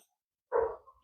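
One fairly loud dog bark or woof sounds after a brief silence, standing alone without any talk over it.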